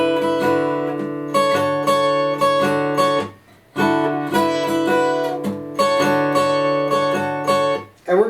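The Harvest Moon intro played on acoustic guitar in standard tuning, ringing strummed and picked chords repeating in a steady pattern with two brief pauses, close and clear with no talking.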